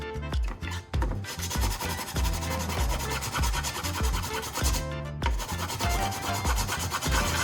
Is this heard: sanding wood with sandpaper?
yes